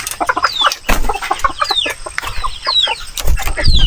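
Chickens and chicks clucking up close outdoors, busy overlapping clucks and thin high peeps with a few louder squawks, loud and continuous.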